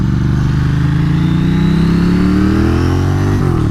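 Ducati 900SS motorcycle engine revving steadily and loudly up close, its pitch climbing smoothly over several seconds before dropping slightly near the end.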